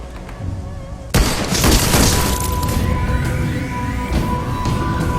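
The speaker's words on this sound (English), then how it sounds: "Where did the shots come from though?" Gunfire in the Shadowrun: Hong Kong video game, a sudden loud crashing blast followed by a sustained noisy, ringing burst with a faint tone underneath.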